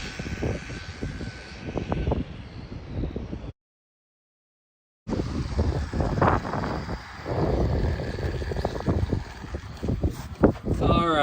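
High-performance RC boat on 1,300–1,500 mAh LiPo batteries with a ZTW ESC, run at full throttle near 66 mph, giving a loud, sustained high-pitched motor whine with wind noise and a brief dropout partway through.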